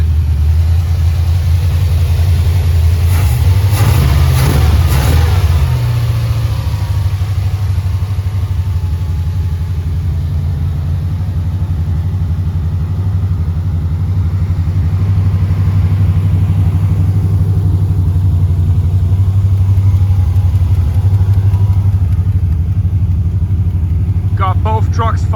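Two pickup trucks idling just after starting, a steady low engine rumble held at a constant level, with a brief rev-like burst early on and someone talking over it.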